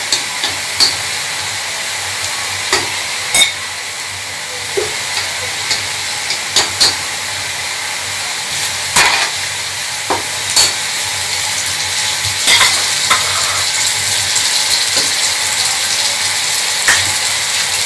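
Steady hiss and crackle of onions frying in oil for chicken pulao, with occasional clinks and scrapes of a utensil stirring the pan.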